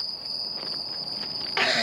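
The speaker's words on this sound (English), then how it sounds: "Cricket." A cricket chirps in a steady, high-pitched trill, close and clear, ending in a brief louder burst of noise.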